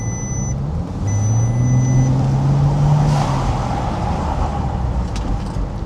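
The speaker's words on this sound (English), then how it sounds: "The engine is actually misfiring so badly." A faulty Bentley drives with its engine badly misfiring, giving a steady low rumble with an uneven drone. Faint electronic beep tones sound near the start.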